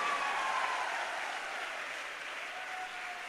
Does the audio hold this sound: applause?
yes